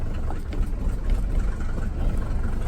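A Mercedes 300D diesel engine idles steadily just after starting, a continuous close low rumble with no talk over it.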